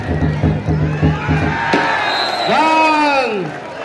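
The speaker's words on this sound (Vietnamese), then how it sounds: "Xin toàn thể nhân dân lời chào vỗ tay thật to thật rộn rã để cổ vũ cho Ai Đô." A crowd cheers and claps at a traditional wrestling match, rising in a noisy swell while an announcer's amplified voice carries over it.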